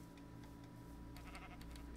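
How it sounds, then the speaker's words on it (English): Sheep bleating in Minecraft, short repeated bleats over a steady game backdrop, no voices present. "There's sheep!"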